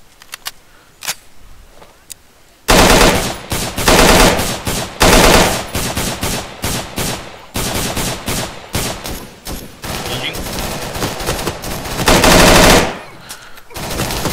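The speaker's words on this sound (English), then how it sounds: "we're still taking submachine gun fire" Submachine gun fire in a Vietnam War video game set around a MACV-SOG operation, loud rapid bursts and sustained automatic volleys after a quiet opening, with brief pauses between strings of shots and no talk.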